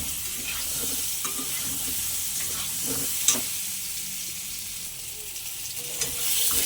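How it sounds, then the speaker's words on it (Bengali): Pointed gourds fry lightly in hot mustard oil with a steady, soft sizzle and hiss, broken by a few faint clinks and stirring taps. "পটলগুলো আমি একটু হালকা করে ভেজে নিচ্ছি।"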